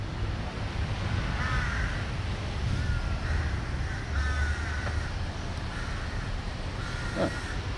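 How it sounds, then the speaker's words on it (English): A crow caws repeatedly in a Bangkok park, several rasping calls spread across a steady background of wind and distant city hiss, with no voices. "Spooky, getting followed by a crow."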